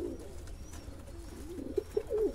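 Pigeons coo softly and close by, a few low rolling calls repeating near the end over a steady quiet background hum.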